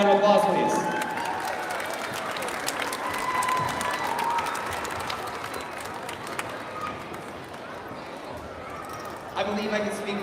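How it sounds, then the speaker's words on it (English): At a school district arts showcase, an audience applauds the choir director, a broad sustained clapping that is strongest at the start and gradually eases, with voices and a few tonal sounds mixed in over the top. "Can we give Mr. Nix a very big round of applause, please?"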